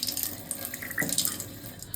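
Tap water runs steadily into a sink, a continuous close splashing hiss with slight fluctuations and no talking.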